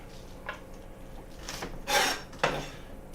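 A knife trims the ends off green onions on a board, giving a few short scraping cuts and one louder rasp, close and fairly quiet with no talking.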